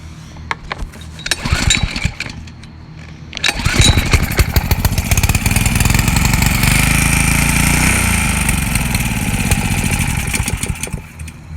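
A rebuilt Honda GC160 small engine, previously flooded, cranks with a brief sputter, catches and settles into a loud, steady running drone close by, with no one speaking.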